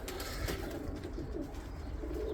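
Black Widow racing pigeons coo softly in a loft, low rolling calls at a moderate distance with steady background hum and no speech.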